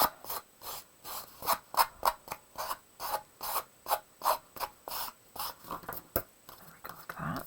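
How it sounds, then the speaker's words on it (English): Steady back-and-forth rasping strokes, like sandpaper rubbed over wood, repeating in an even rhythm up close with brief pauses. "This piece needs more sanding."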